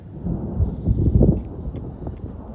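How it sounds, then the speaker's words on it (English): Low, heavy thunder from an approaching tornado storm rumbles and rolls continuously, swelling in the middle before easing back, with faint higher crackles above the deep drone. "you can hear the thunder rolling around out there"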